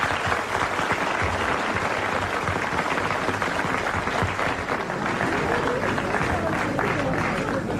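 A studio audience at a 25th-anniversary television show claps steadily, a dense, loud wash of applause that holds at an even level without letting up.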